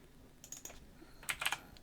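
Short bursts of typing on a computer keyboard at a desk while setting up an Arduino, two quick clusters of light clicky keystrokes separated by a pause, close and fairly quiet.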